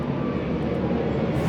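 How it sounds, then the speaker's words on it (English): A fixed-wing airplane flies over near an airport, its engine roar a steady, loud, broadband rumble that fills the whole moment without letting up. "Sorry about that plane."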